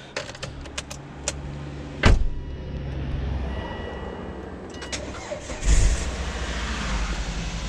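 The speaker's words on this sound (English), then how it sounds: "that means we can go and start our engine, which now it should start" A Volvo V70 from the 2000–2007 range cranks and catches after a jump start, with a sharp burst as the engine starts, a second crank-and-start a few seconds later, and a steady close idle in between.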